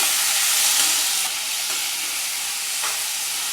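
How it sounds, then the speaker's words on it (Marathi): Chopped tomato sautéing in a hot pan while being stirred, a steady close sizzle with a spoon scraping through it, loud at first and then settling slightly softer. "पुन्हा टोमॅटो परतून घेऊया"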